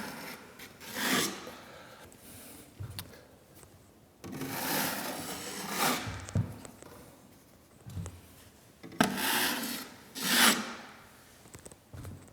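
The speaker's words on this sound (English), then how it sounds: "I think I'll just smoothen it without putting too much pressure on it" A cardboard surface is smoothed by hand with light pressure, producing repeated rasping rub strokes that swell and fade in long passes with short pauses between, close by and with no voices.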